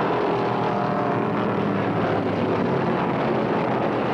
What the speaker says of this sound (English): Isaac's Hemi sounds strong as he moves up on the inside to challenge Allison for the lead